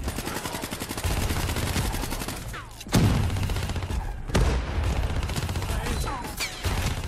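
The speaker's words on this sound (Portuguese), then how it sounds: "Dê o primeiro tiro." Gunfire in the video game Call of Duty Black Ops 3: rapid automatic bursts with several heavy booming shots, loud and continuous, alongside game voices and effects.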